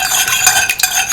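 A spoon stirs salt into a small amount of water, giving quick scraping, clinking strokes against the container, close and clear with no voices.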